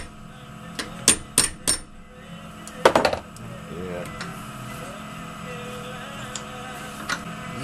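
Prying a magnet bracket out of a hard drive, where glue gives way, produces several sharp close clicks and small pops over a steady background hum, and a voice is briefly heard.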